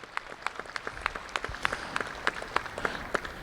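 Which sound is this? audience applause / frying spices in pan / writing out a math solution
audience applause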